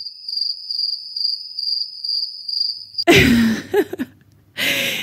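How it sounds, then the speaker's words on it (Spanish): Steady, high-pitched cricket chirping pulses evenly for a few seconds, then gives way to abrupt loud rustling and thumping bursts. "todo esto de los crickets, ¿no? De los grillos que se escuchan"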